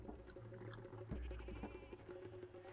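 Sheep bleat in the Civilization V strategy game, several short bleats rising over a busy, steady backdrop of game ambience and low music.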